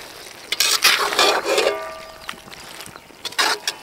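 A spoon scrapes and stirs chicken fry with coriander leaves in a pan, giving a few close, loud bursts of scraping and clatter with soft sizzling between them.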